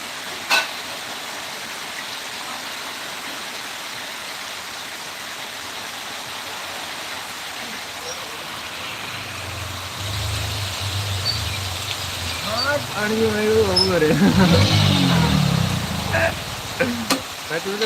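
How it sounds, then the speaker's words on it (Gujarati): Heavy downpour in Rajula, Gujarat, a steady broadband hiss of rain throughout, with a vehicle engine rumbling nearby toward the end and voices talking over it. "ભૂકા કાઢી નાખે એવો વરસાદ ચાલુ થઈ ગયો"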